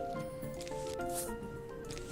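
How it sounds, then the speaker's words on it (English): A squash plant crushes a zombie in the Plants vs. Zombies video game, a single brief squishy thud over the game's soft, tonal background music. "so we'll just put a squash there."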